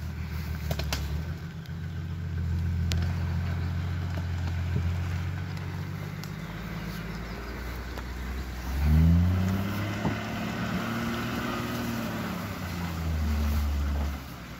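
Car engine on a Kola Peninsula trip runs steadily with low rumble, then revs up sharply near the middle and again toward the end, close and loud.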